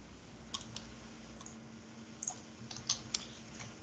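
Computer keyboard keys clicked in a quiet room, a few scattered light taps followed by a firmer cluster of presses near the end, faint and close with no talking.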